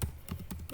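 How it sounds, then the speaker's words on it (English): Fast typing on a computer keyboard, a brief close burst of a few crisp key clicks in an uneven rhythm with no voice. "So I'm going to type in"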